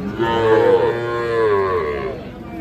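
A Sahiwal heifer calf at a cattle market gives one long, loud, close moo that wavers in pitch and fades at the end, with no talk over it.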